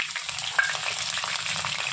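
Curry leaves and mustard seeds crackle and spit in hot oil for a capsicum curry, a close, continuous sizzle dotted with rapid sharp pops.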